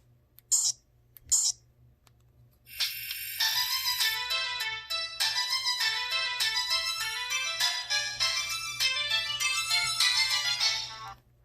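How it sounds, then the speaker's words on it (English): An old Sprint PCS mobile phone plays its ringtone: two short clicks, then a bright, busy electronic melody of rapid tones running steadily for about nine seconds before cutting off. "I'll even show you guys the ringtone that I used."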